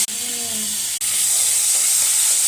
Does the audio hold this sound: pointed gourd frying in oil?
yes